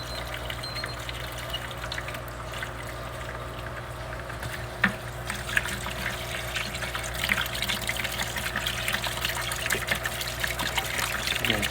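Water trickles and splashes steadily while aquarium plants are rinsed off before replanting, a continuous close flow with a couple of sharper splashes partway through and no talking.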